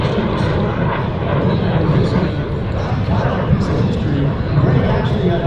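Lockheed T-33 Shooting Star jet at an airshow, a loud steady engine roar filling the air throughout, with a voice talking over it.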